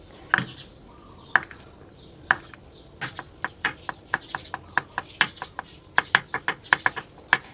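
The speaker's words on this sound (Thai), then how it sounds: "เราจะซอยให้เป็นชิ้นเล็ก ๆ" A knife finely slices ingredients for a Thai pink coconut-milk noodle dish on a cutting board, giving a run of sharp, close chops that speed up into a quick steady rhythm with no talking.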